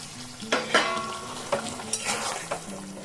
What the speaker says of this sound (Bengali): দেখুন ঝোল একদম ফুটে গেছে।